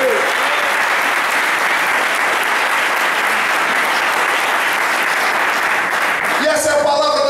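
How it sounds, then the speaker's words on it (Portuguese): A church congregation applauds the Lord in a sustained, dense wash of clapping that fills the room, with a voice breaking in briefly near the end. "Quem pode aplaudir o Senhor?"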